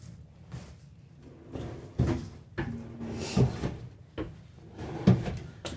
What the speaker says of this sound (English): the drawers all throughout the coach will be soft close